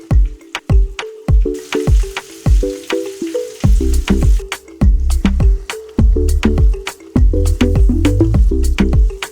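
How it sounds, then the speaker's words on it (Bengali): Chicken chaap sizzling and frying in hot oil, with steady crackle and repeated clinks of a utensil stirring in the pan. "পরে যেগুলো ছিল সেগুলো আমি ভেজে নিচ্ছি"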